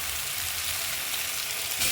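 Raw parshe fish sizzling and frying in hot oil in a pan while cooking a curry with eggplant and potato, a dense, continuous crackle with no speech.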